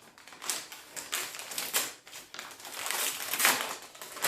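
Crisp paper crinkling and tearing as a paper-wrapped book is unwrapped, with a steady run of close, busy rustles and rips throughout.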